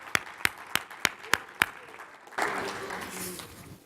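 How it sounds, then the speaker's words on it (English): An audience in a chamber-of-commerce event hall bursts into applause: a few sharp separate claps first, then a dense, sustained wash of clapping from many hands filling the room. "if we can give the Chamber a big round of applause"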